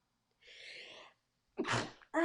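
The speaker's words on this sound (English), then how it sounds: "I'm feeling a sneeze coming on." A single sneeze, a soft breathy intake followed by a sharp burst, then a short vocal sound right after, in a quiet room.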